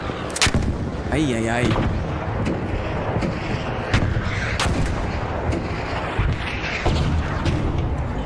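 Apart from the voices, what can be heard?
missiles and artillery explosions in the video game ARC Raiders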